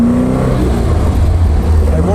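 Alfa Romeo engine running steadily with a low rumbling drone close by, held at a constant level throughout with no distinct revving, and someone talking over it.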